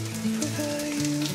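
King oyster mushroom slices sizzle in a pan of vegan butter, a short, close, steady frying crackle with quiet music playing underneath.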